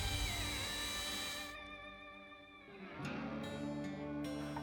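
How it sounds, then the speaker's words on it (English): A power drill whines at high speed on stainless steel during car restoration work, then winds down briefly before spinning back up, loud and close with no talk. "We'll do some quick drilling and tap that mark"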